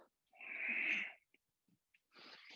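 A slow, airy exhale through the nose during a yoga exercise, close and soft, followed by faint rustles and the start of another breath.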